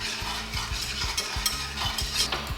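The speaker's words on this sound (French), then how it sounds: "On va verser le sucre et un peu d'eau. Et on verse dans la casserole" Sugar and water stirred in a saucepan on the heat give a soft sizzle with a rhythmic scrape of a utensil against the pan, repeating every half second or so, close and unvoiced.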